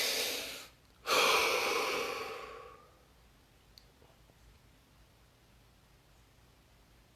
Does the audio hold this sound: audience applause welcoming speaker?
no